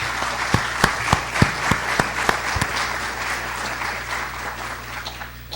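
An audience welcomes a law professor with a burst of applause: loud, close claps with several sharp individual hits at first, then thinning into a softer, fading patter.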